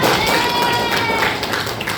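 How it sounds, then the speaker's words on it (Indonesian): A class of students claps together for a classmate in an Acehnese Islamic school classroom, a loud dense burst of clapping that continues steadily from start to end and is heard up close. "Sekali lagi, tepuk tangan semua untuk Hafiza"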